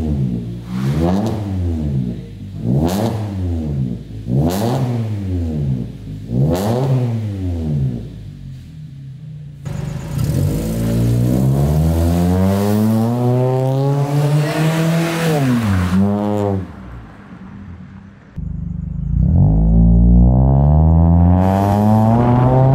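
Suzuki Ciaz engine fitted with custom headers and exhaust, revved in four quick rising-and-falling blips, then held in a long climbing rev that drops, followed by another strong rev, loud and close with no talking.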